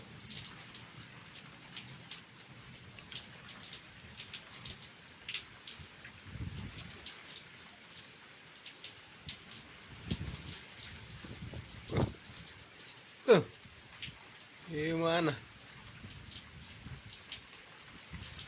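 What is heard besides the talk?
rain falling after two days of heat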